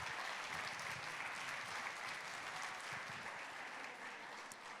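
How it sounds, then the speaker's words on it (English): Sustained applause from an audience, steady clapping filling the room for several seconds without pause. "Give them a big round of applause, please."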